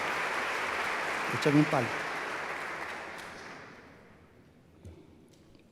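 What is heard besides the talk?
applause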